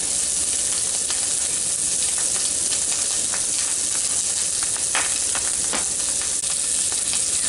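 Sausage frying in a pan at home, a steady close sizzle and crackle with scattered sharper pops, continuous and alone without talk.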